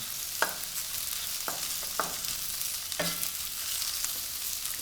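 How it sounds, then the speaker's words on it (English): Steady broadband sizzle of onions frying in a hot pan on high heat, with a few sharp clicks and scrapes of stirring scattered throughout. "I'm going to fry the onions until they're"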